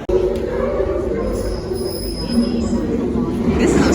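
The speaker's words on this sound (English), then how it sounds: "This is a slow train though." A slow train passes in London with a steady close rumble and high metallic wheel squeal, and faint voices murmur beneath it.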